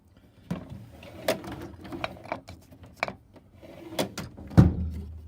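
A drawer sliding open in a home workshop tool chest, with a series of clicks, knocks and metallic rattles of tools shifting, ending in a louder close thud.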